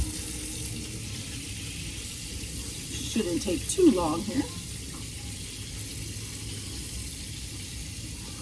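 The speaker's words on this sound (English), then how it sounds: "take 1/4 cup of lukewarm water here from the sink" Water runs steadily from a tap into a sink in the background while someone speaks briefly over it.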